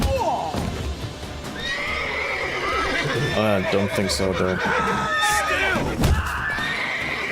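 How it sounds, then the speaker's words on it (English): A horse neighs and whinnies loudly in The Witcher 3: Wild Hunt as it attacks the player, with hoof clip-clop and combat noise around it and someone talking over part of it. "What, is this horse attacking me?"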